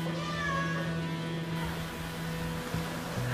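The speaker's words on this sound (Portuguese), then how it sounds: "Essa Xeninha, minha gatinha." A house cat meows indoors, a drawn-out, moderately loud cry set against a steady background hum, with no talk.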